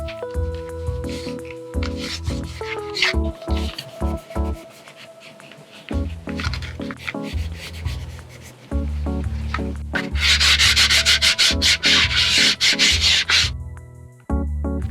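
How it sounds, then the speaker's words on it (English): Alcohol wipe rubbed over Nintendo Switch controllers and dock, giving steady close-up scrubbing and rubbing strokes with short pauses, louder and denser rasping toward the end, and no talk. "now I'm wiping the controllers with an alcoholic wipe"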